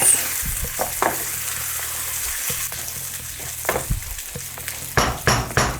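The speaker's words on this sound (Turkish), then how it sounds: "Pirinçlerle birlikte birazcık kavuruyoruz." Rice sautés in a hot pan with onions and spices for a lamb shank pilaf, crackling and sizzling up close while a spoon stirs, scraping in irregular bursts that grow busier near the end.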